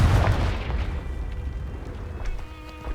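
A Confringo explosion spell goes off in the wizarding video game Hogwarts Legacy, a loud close boom at the start that rumbles on and then fades into lighter crackles and pops.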